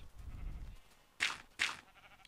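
Sheep in the video game Minecraft give two short, bright bleats in quick succession after a low rumble fades, each cry sharp and close against a quiet background.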